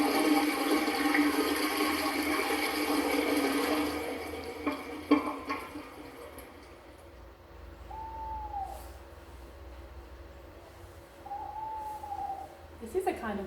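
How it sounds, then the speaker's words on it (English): A household toilet flushing, a broad rushing wash of water that is loud and close at first, then drains away and fades over several seconds before quieter sounds follow. "It's flushing a toilet."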